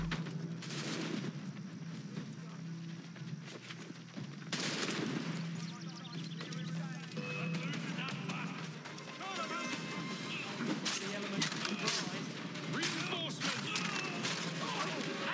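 Rapid bursts of gunfire from Assassin's Creed 3 combat, loud repeated volleys and shots with clatter and game noise running throughout, mixed with occasional talk.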